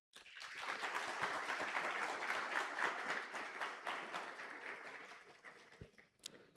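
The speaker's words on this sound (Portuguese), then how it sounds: "Vamos aplaudi-la e recebê-la com muito carinho, Marilene Fogaça." An audience of school administrators and educators at a conference event claps to welcome a speaker to the stage, a sustained dense burst of applause that thins and fades toward the end.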